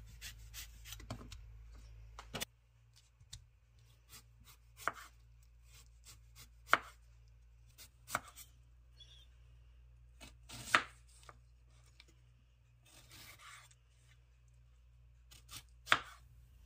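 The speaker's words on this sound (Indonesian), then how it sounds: "lalu dipotong-potong dibuang bijinya" A knife chops a deseeded Indian cucumber on a board in irregular, fairly loud strikes, with quieter scraping and rubbing between them and no voices.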